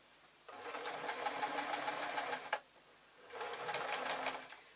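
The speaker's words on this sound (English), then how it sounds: "You can see the machine is struggling a bit with the different height of the texture" A domestic sewing machine stitches a pillowcase seam in two steady runs, the first about two seconds and the second shorter, with a dense buzzing whir and a brief pause between, the motor labouring slightly over thick folded fabric.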